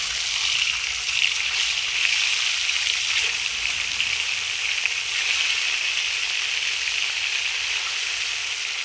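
Fish frying in hot oil over a clay stove, giving a steady, loud sizzling hiss that fills the whole stretch without letup.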